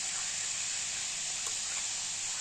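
Ajwain seeds sizzle steadily in hot oil as a tempering for a prawn curry, a continuous bright, even crackling hiss with no talk over it.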